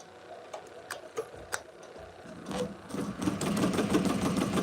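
Ricoma MT-1501 embroidery machine starting up during a thread tension adjustment: a few separate clicks and knocks, then a steady rapid mechanical stitching rhythm that builds and continues close by.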